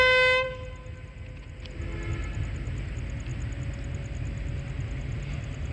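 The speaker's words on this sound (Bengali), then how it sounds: "এই যে রেল ইঞ্জিন আগা আসতেছে" A railway locomotive moves at Khalishpur rail junction in Khulna: a brief horn blast at the start cuts off, leaving a steady low rumble of the engine and rail yard at moderate distance.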